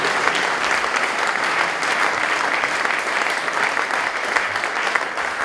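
Audience applauding at an award ceremony in a university forum, a steady, full round of clapping lasting throughout.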